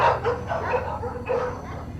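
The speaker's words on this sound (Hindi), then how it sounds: "गेस्ट हाउस के बाहर अचानक से कुत्ते जोर जोर से भौंकने लगे" Dogs barking loudly outside a guest house, several sharp close barks and yips in quick irregular bursts that fill the moment, with no speech over them.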